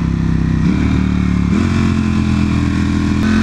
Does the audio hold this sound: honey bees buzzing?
no